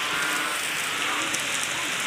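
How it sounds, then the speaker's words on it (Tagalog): Heavy typhoon rain pours down steadily at an outdoor water rescue training site, a dense, unbroken roar of drops striking surfaces throughout. "Grabe lakas ng ulan, no? Bagyo talaga nito."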